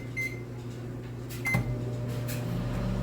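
A 1000-watt microwave oven heats corn on the cob, giving a steady low electrical hum with a couple of short beeps and a faint clunk partway through, close and constant.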